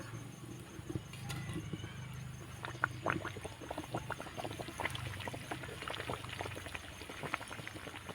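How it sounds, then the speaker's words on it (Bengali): Pua pitha, round Bengali rice-flour cakes, fry in oil in a pan with a steady bubbling hiss and a dense scatter of small crackles and pops running throughout, with no talk. "পিঠেটাকে আমি মিডিয়াম আছে করে ভেজে নিয়েছি লাল লাল করে হয়ে গেছে তুলে নেবো"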